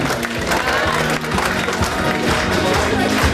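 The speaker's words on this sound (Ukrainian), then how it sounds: "Бухгалтер, аплодисменты." A crowd applauds an accountant at the 70th anniversary celebration of the Sloviansk mechanical plant. The clapping is steady and dense throughout, with a low tonal drone underneath.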